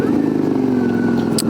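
Suzuki V-Strom 650 motorcycle fitted with a Delkevic exhaust, riding at a steady pace, its loud, close engine drone holding a fairly even pitch, with a brief sharp click near the end.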